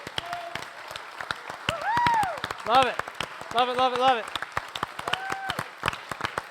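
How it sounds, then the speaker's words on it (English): A church audience applauds its volunteers with steady, dense clapping that fills the room, while a voice talks excitedly over the applause. "Let's give these guys a round of applause."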